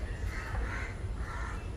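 A crow caws loudly and close by in an open outdoor space where fish is being cut, with harsh repeated calls over steady background noise.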